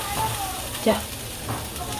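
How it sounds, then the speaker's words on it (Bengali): Rice fries in a pan with soaked cashews and raisins for basanti pulao, a close, continuous sizzle with a short stir-like scrape in the middle. "এই কাজু কিশমিশটা দিয়ে দিলাম, দিয়ে চালটা ভালো করে একটু ভেজে নেবো"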